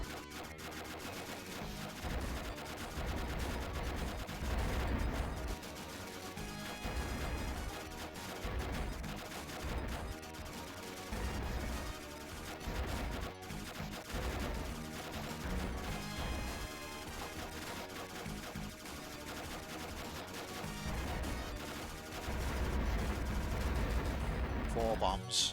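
Rapid gunfire and explosions from the 1992 Video System arcade shooter Aero Fighters, relentless bursts of shots and crashes over game music, loud and dense throughout.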